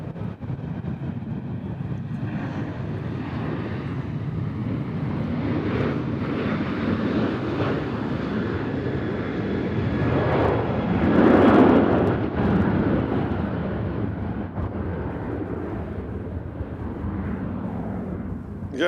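A Southwest airliner passing at Nashville International Airport gives a steady broad roar that swells to a peak near the middle and then holds, heard from a moderate distance with no talk.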